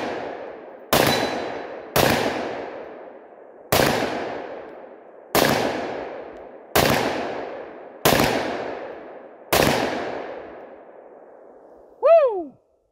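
Seven loud, sharp shots from a Coonan 357 Magnum 1911 semi-automatic pistol, fired at a steady, unhurried pace outdoors with each crack ringing into a decaying echo, followed by a short whooping shout.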